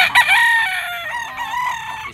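A young rooster, a stag, crows once at a pet market, a loud, close, strained cock-a-doodle-doo lasting about two seconds.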